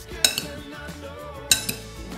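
Utensils stir sauce into grated carrots in a bowl, giving two sharp metallic clinks against the dish amid soft scraping and mixing sounds, close and moderately loud.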